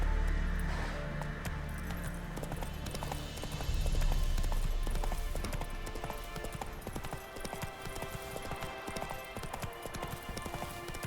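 Horse hooves clip-clop steadily in The Witcher 3, a close, continuous trotting rhythm layered over in-game ambience and music, with no talking.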